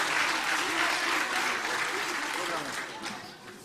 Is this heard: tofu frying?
no